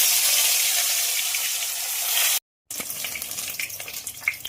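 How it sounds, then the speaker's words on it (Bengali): Bhetki fish frying in hot oil in a kadai, a loud broad hissing sizzle that cuts off abruptly midway, then resumes as a quieter crackle with small pops, heard close and with no talking. "মাছ ভাজার জন্য তেল গরম হয়ে গেছে"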